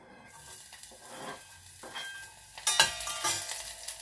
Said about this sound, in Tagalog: ilalagay ko ang sibuyas